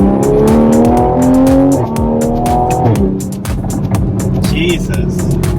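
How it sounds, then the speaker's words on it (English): 2020 Toyota Supra Launch Edition accelerating hard on a test pull, its engine rising through the revs, then fast upshifts with abrupt pitch drops and a sharp crackle, loud and close from inside the car. "Let's give it a little test pull."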